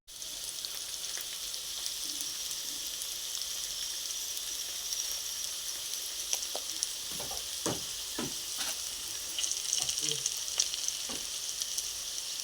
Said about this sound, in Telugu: దొండకాయలు ఇలా మగ్గుతున్నాయి కదండి